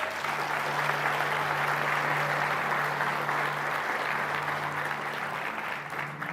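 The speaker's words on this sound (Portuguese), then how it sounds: "Você pode aplaudir a Ele?" A church congregation applauds during a sermon, a dense, sustained roar of clapping that holds steady throughout and tapers slightly toward the end, with no talking over it.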